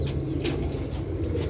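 Pigeons at a loft of breeding birds give soft repeated wing flaps and low coos, close by and steady against a background hum, with no talk.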